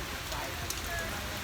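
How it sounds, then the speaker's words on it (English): Heavy pouring rain drums steadily on an umbrella overhead in Aruba, a dense, constant patter close by, with a faint voice underneath. "I'm hiding under an umbrella because it is again pouring raining."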